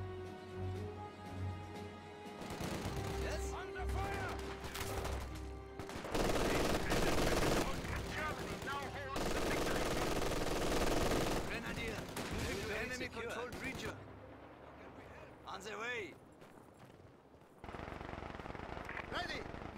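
Rattling machine-gun bursts and rifle shots sound from a Company of Heroes 2 battle, with game music and character voice lines over the gunfire and a few quieter gaps.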